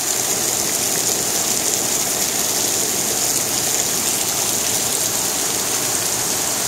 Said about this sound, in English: It's raining inside my shop.